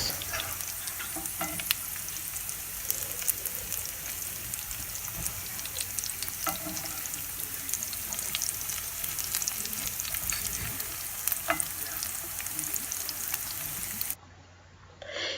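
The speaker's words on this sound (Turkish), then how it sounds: "Patateslerimiz kızarmaya başlayınca sucuklarımızı ekliyoruz." Potatoes and Turkish sucuk sausage sizzle and crackle steadily in a hot pan, with occasional stirring scrapes, no talking.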